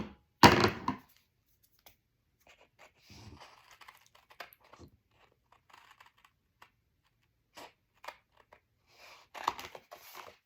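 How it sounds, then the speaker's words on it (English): Scissors cutting a paper pocket for a scrapbook album, with a sharp snip at the start and then soft, scattered clips and rustles of paper. "I'm going to cut this pocket."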